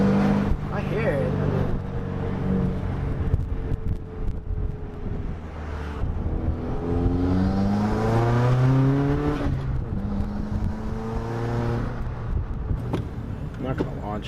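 A new Honda car fitted with a Cobb Big SF intake revs its engine, the pitch sweeping up and down in repeated rising whines, with wind buffeting and people talking over it.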